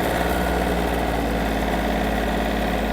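A Yanmar F-200 mini tractor engine runs steadily at a loud, close, even drone with constant vibration and no pauses.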